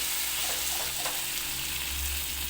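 Brinjal curry with salt and turmeric sizzles steadily in a pan while being stirred, a continuous hiss with soft scraping movements close by.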